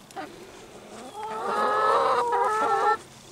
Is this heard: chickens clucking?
yes